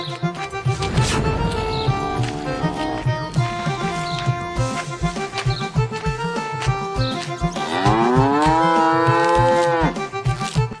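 Buffaloes tied up in a cattle shed moo loudly and close, with several long drawn-out lowing calls and shorter grunts across the clip and no talk.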